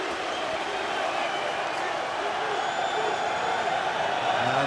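A Bellator arena crowd cheers for French fighter Thibaut Gouti mid-fight, a constant broad roar of many voices that swells slightly toward the end, with a faint whistle-like tone above it.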